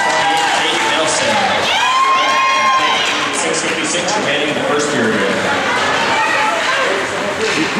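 Youth junior varsity hockey crowd cheers a goal against Rogers with loud, sustained shouting, whoops and raised voices filling the space, mixed with excited talk throughout.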